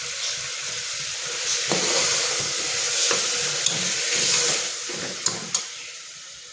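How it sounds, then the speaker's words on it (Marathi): Roasted masala paste being stirred into sautéed chickpeas in a hot pan, a steady sizzle and hiss broken by several sharp scrapes and clinks of the spoon, with no talking. "आपल्याला हे एकदा मिश्रण सगळं ढवळून घ्यायचं आहे"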